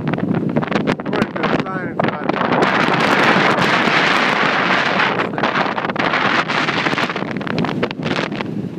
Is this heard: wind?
yes